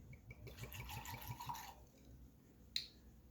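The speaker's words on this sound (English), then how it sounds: "We'll pour some of this out." Wheatley vodka glugging and trickling from its bottle as some is poured out, a quiet liquid splash for about a second and a half, followed by a faint clink, close and without talk.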